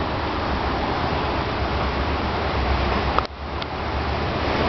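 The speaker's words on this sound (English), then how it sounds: "Pretty big gust of wind right there." Hurricane Sandy winds at night in a New York neighborhood make a steady, loud, broadband roar that swells slightly before dipping briefly, with no voices.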